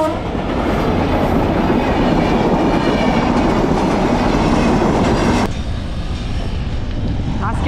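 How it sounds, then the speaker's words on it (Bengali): A train passes close by with a loud, dense rumble and rattle of rail cars that holds steady for several seconds, then cuts off abruptly, leaving a much quieter background. "ট্রেন এখন আসার সময় আইছি।"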